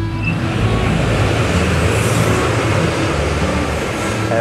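A high-speed train passes on a nearby railway line, producing a loud, sustained roar that holds steady for several seconds with no one speaking over it.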